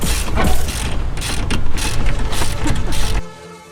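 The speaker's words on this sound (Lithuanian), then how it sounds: "Atsisukau ratą kitoje pusėje." A ratchet wrench loosening the wheel bolts on the far side of an Audi A3, a dense, loud run of metallic clicking and grinding that stops abruptly just before the end.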